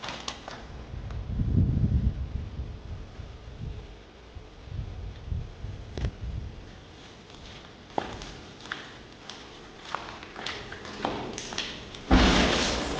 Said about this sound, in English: that door just slammed